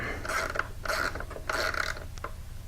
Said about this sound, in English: even with a ratchet, we can snug it up